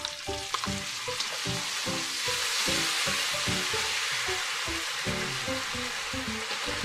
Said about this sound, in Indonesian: Masukkan 1/2 bawang bombay ukuran sedang dan tumis sampai wangi. Masukkan juga sausnya dan aduk sebentar.